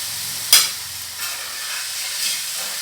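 Chicken pieces fry in oil with a steady, bright sizzle and hiss, broken by a sharp stir or clatter near the start and a couple of softer bursts, close up and with no talking.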